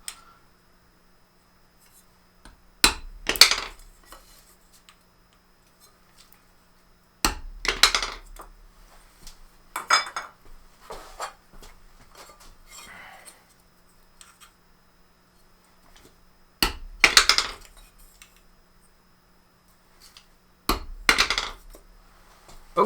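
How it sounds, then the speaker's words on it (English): Sharp metallic taps ring out in a few separate clusters, a hammer striking a steel center punch to mark holes in metal cosplay armour, with quiet gaps between. "So I highly recommend always center punching your holes."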